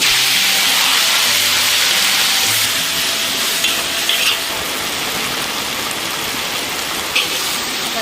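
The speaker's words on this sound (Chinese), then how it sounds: "放入牛油" Beef tallow added to hot rapeseed oil and lard in a farmhouse wok with old ginger sizzles loudly and steadily, a dense rain-like hiss with a few brief crackles and stirs, close and with no talk.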